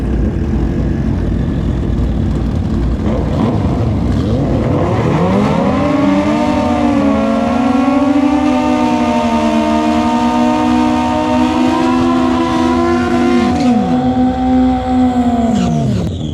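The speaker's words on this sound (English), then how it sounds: "Awesome run up by both bikes." Two racing motorcycles on a drag strip at Maui Raceway Park, engines revving and rising together in a loud, high-pitched whine as they pull away, holding a sustained tone before falling off as they pass.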